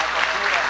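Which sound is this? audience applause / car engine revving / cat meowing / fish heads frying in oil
audience applause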